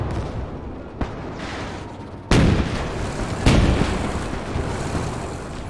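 Anti-tank grenade blasts against a tank in Gates of Hell: a small crack, then two heavy booming detonations a second apart, each leaving a lingering rumble over battlefield noise.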